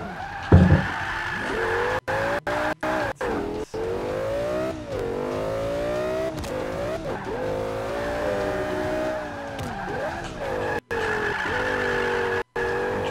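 A car drifting in the racing game Forza 5, its engine droning and shifting pitch as the tires squeal in long wavering skids, loud and continuous with brief dropouts.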